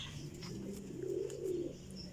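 Pigeons coo softly in a low, rolling murmur over steady background noise, with no voices present.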